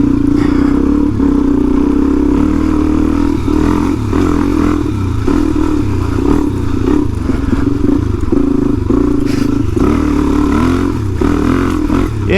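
A Suzuki DRZ 400e motorcycle riding on a dirt trail with adventure mods, upgraded gearing and a rack bag, its mid-pitched engine droning steadily and loudly with small throttle swells and clattering over the whole stretch, no talk.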